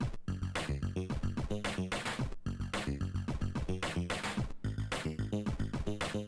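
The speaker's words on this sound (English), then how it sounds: "how to use some of the new features to build up a bass and drum track like this" A looping electronic beat from a Sonicware Liven 8bit Warps synthesizer: punchy synth bass notes locked to steady kick and hi-hat drums, repeating evenly and loud throughout, with no voices.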